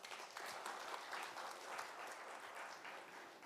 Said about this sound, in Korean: 모두 응원의 박수를 부탁드립니다